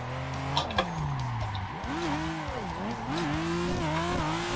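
Toyota Cresta JZX100 drifting on a circuit, the engine revving and swooping up and down through gear and throttle changes, with tire squeal beneath, close and steady over several seconds.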